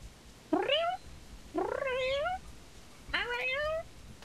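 A cat meows three times in the video game Assassin's Creed IV Black Flag, each call rising and falling, close and clear, separated by short pauses.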